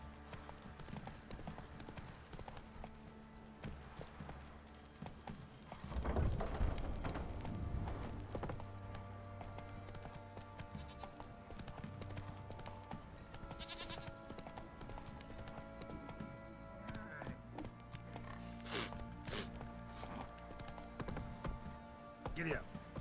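Horse hooves clopping along beneath people talking in The Witcher game, with a brief louder burst of movement and some bleating animals in the background.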